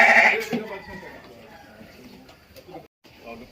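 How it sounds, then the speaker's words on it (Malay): One loud goat bleat rings out close by in a livestock pen where adult goats rest with their kids, then fades into quieter rustling and low background noise. "Ni kambing tengah berehat ya."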